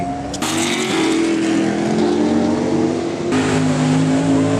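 A BMW E36 and a Chevy roar off together at a drag strip, a loud sustained engine drone rising in pitch through gear changes, close and without talk.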